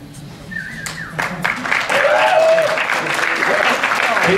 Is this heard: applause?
yes